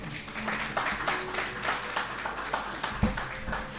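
An audience at a track and field coaches' awards ceremony in Jamaica claps steadily in a dense patter of hands, moderately loud and mid-distance, with no talking over it.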